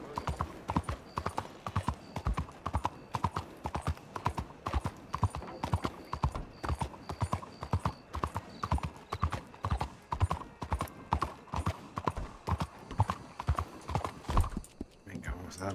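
Horse hooves clip-clop in a quick, steady rhythm on the streets of Saint Denis in the video game Red Dead Redemption 2, continuing for about fifteen seconds with occasional soft game sounds in the background.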